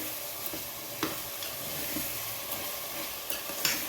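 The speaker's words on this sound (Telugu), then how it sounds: "చికెన్ కూడా వేసేస్తున్నాను" Chicken pieces fry in a hot pan for a spicy hotel-style biryani, a steady close sizzle and hiss with occasional soft stirring knocks; no one speaks.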